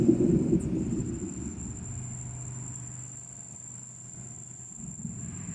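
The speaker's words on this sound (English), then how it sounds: "a thunder and lightning show for those of you that love the lightning and thunder" A low, distant rumble of thunder from a thunderstorm rolls on steadily under a faint hiss of rain, with a thin high insect-like whine running throughout.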